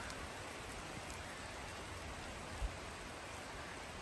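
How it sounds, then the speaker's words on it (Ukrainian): Light rain falls in the Carpathian mountains amid fog and low cloud, a faint, even patter of drops under a continuous soft hiss, with no voices. "Поки що ще дощ не дуже сильний"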